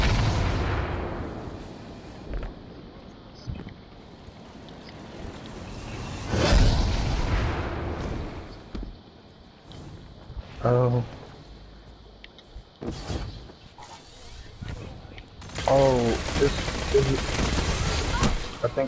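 Bursts of gunfire and booming impacts from a Destiny 2 fight come in uneven waves, with rapid fire and loud blasts standing out against quieter stretches of game noise.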